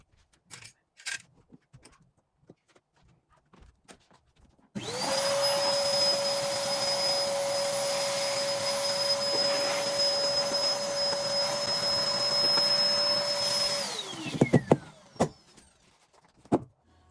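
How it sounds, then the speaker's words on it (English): Household vacuum cleaner (hoover) switching on abruptly, running with a loud steady whine for about nine seconds, then spinning down, with faint clatter before and after and no talk. "the amount of things I hoovered up in this hoover in this week"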